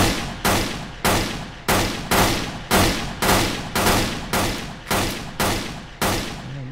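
Repeated heavy gunshots blast at a monster in the Roblox horror game Floors Have Teeth, about a dozen loud evenly spaced shots in a steady rhythm with nothing else over them.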